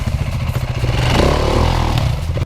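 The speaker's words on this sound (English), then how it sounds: "Just lean the bike over against your leg, feed in clutch and spin that rear wheel around." Dirt bike engine revving hard as the rear wheel spins through a U-turn on an enduro track, a loud, sustained close-up roar with clattering and scraping of dirt.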